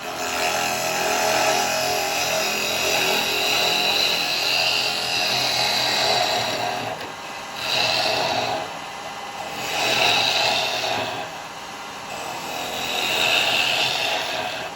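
A bowl gouge cuts wood on a lathe while a small weave-style basket pot with beading is turned: a steady rough shearing hiss that swells and eases in several passes, close and loud with no talk.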